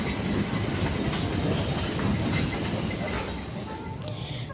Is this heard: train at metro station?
yes